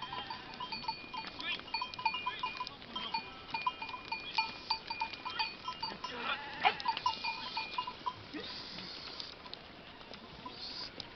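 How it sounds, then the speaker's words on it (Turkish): A mixed herd of Saanen goats and sheep heading out to graze, with steady overlapping bleats, bell clinks and shuffling hooves close by, a busy continuous farmyard din with no talking. "Sanem keçilerimiz var."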